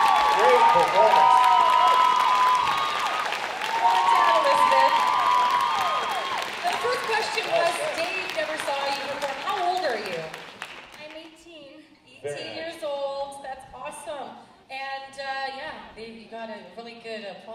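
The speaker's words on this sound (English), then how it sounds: "A really good applause there." Audience applause and cheering after a performance at a Thunder Bay talent show, loud and full at first and fading over several seconds, then giving way to a host talking with the clapping tapering off underneath.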